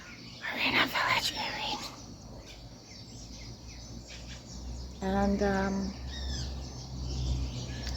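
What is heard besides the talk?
birds calling in the early morning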